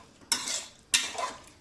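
A spoon stirring chili powder and salt into pulao in a cooking pot, two scraping, swishing strokes close by with a soft sizzle, no voices.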